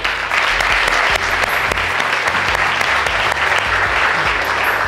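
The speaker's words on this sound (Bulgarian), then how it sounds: "Аплодисменти още веднъж за Никола." An audience of about three hundred applauding at an evening show, loud, close, sustained clapping with sharp individual claps standing out and a low background rumble, no speech over it.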